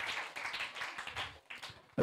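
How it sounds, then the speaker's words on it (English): Soft, scattered clapping from an audience at a primary schools cricket opening ceremony, a quiet patter of hands rising and dipping in small waves, heard from some distance. "Can we give a rousing round of applause to the Ministry of Education and the Department of"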